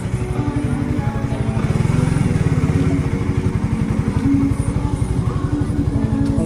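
A passing motorcycle engine rumbles close by near Taal Lake with a steady, throbbing idle that swells slightly, loud and continuous with no talking.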